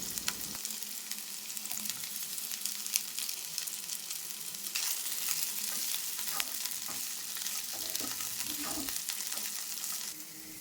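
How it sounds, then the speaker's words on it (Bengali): Cabbage, capsicum and tomato with onion, beans, carrot, chilli and garlic sizzle in white oil in a wok for chicken chow mein, with a steady close crackle and scraping stirs throughout. "এবার বাঁধাকপি, ক্যাপসিকাম আর টমেটো দিয়ে সবজিটা একটু ভেজে নেব।"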